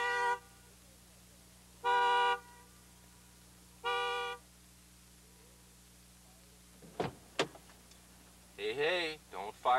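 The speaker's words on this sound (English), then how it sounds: "Another form of protection developed for today's cars is the theft alarm system." A car's theft alarm sounds in short bursts of horn honking: three evenly spaced loud buzzy toots with silence between, then clicks and a door or window sound, followed by a warbling electronic siren tone near the end.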